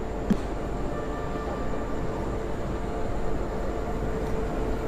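Himgiri Express arriving at Saharanpur Junction station: a steady low rumble of rolling coaches with faint track clatter and a brief tap near the start, continuous and moderately loud without talk.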